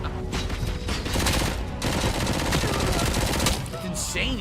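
SMG gunfire in a RoboCop video game: dense, continuous rapid automatic fire rattles loudly for several seconds, layered with game effects and a brief high electronic tone near the end.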